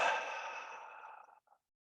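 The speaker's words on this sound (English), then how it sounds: "take a deep breath, breathing in through your nose, and just hold your breath for a moment, and then exhale through your mouth" A single deep breath exhaled through the mouth, a close, airy sigh that starts strong and fades out over about a second and a half, followed by a short final puff.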